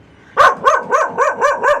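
A dog barks close up in a quick run of about six sharp, evenly spaced barks with no talking.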